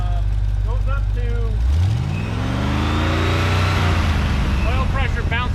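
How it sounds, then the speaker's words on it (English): A warmed-up V8 engine in a 1955 Ford truck revs up from idle, rising and falling loudly and close, with someone talking over it. "oil pressure bounces up to about 55 pounds when we rev it up"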